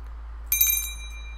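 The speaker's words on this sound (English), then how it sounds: "Ring the bell." A bicycle bell rings once, a bright metallic brring lasting a fraction of a second up close, then fading into near silence.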